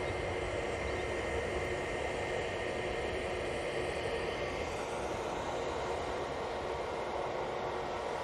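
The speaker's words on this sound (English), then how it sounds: "And TAP's finally spooling up" A TAP airliner's jet engines spool up at Manchester Airport, a steady broadband roar that holds loud and even throughout with no voices.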